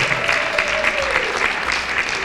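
Steady audience applause for a gubernatorial candidate at a criminal justice summit forum, an even wash of clapping throughout, with a voice briefly over it.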